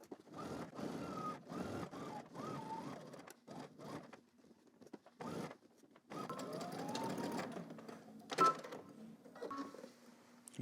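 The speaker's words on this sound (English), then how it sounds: "now we're going to head to the machine. We're going to stitch, start on one end and going all the way to the other end" Bursts of sewing machine stitching run along a 5/8-inch garment seam, several short runs separated by pauses, close and fairly quiet, with faint voice sounds in between.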